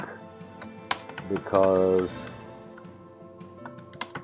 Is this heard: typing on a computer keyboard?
yes